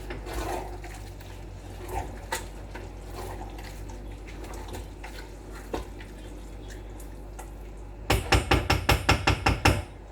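A spoon stirs yam and beans porridge in a pot, with soft wet scraping and occasional knocks, ending in a quick run of sharper rhythmic scrapes against the pot.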